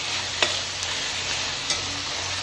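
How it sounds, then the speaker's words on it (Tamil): Tomatoes are sautéed and stirred in a pan while making kuska, with an even sizzle under occasional sharp clinks of a spatula against the pan. "அது வரைக்கும் இந்த தக்காளியை நல்லா வதக்கணும்."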